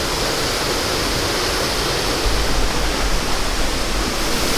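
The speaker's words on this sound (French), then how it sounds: "Là, on est derrière la cascade." A Slovenian waterfall roars steadily from a spot right behind the falling cascade, a dense, unbroken wash of rushing water that fills the whole clip, loud and close, swelling slightly partway through.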